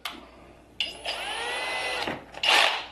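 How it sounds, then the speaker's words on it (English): A small drill bit biting into PVC for a homemade catfish jug line, a whirring, grinding burst that rises and continues steadily for a couple of seconds before a sharper, louder scrape at the end. "go ahead and drill 1 hole"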